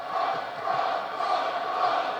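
A U.S. professional wrestling crowd cheering for Will Ospreay, a dense steady roar of many voices that swells slightly, heard from a distance without a break.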